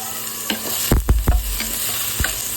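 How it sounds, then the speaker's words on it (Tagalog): Potatoes and carrots sauté in a pan, with a steady sizzle broken by several sharp scraping stirs of a ladle against the metal, the loudest cluster coming in the middle. "Fried muna natin itong ating patatas at saka carrots para mas mayami. So sautay muna natin."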